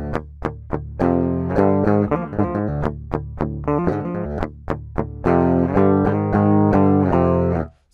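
A distorted electric guitar tone shaped with Bias Amp 2 amp modeling software rings out, several sharp picked chords and single notes followed by a long sustained chord that fades at the end, heard alone.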